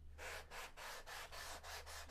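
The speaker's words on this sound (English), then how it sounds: "you use the bottom of the mold buck and you just take your sanding bar and" Sanding bar rubbing over balsa leading-edge sheeting on a model biplane wing, about eight steady back-and-forth strokes in an even rhythm, close and alone.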